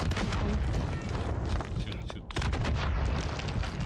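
Dense, continuous blasts and gunfire from grenade launcher explosions in a Call of Duty match, loud and heavy with a short dip midway, with people talking underneath.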